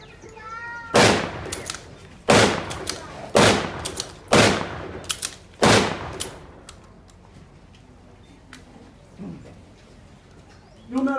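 Five loud, sharp rifle shots from a Springfield 1903 bolt-action rifle, fired outdoors at a WWII museum reenactment, spaced roughly a second or two apart with short echoing tails, followed by quieter handling noise and a bird cooing faintly.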